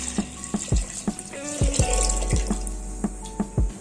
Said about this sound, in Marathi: ह्याच्यामध्ये मी जवळजवळ 1 लिटर पाणी टाकते